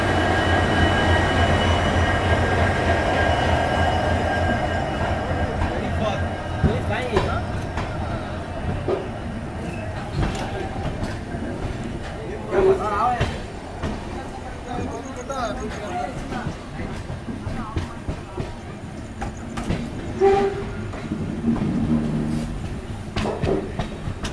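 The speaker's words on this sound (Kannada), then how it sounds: "ಯಾವುದೋ ಒಂದು ಟ್ರೈನ್ ಅರೈವ್ ಆಗ್ತಿದೆ" A train rumbles into KSR Bengaluru railway station with low, steady rolling noise, faint metallic squeals and clatter, and voices murmuring in the busy background.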